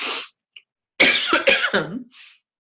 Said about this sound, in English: I can feel another round of coughing going to happen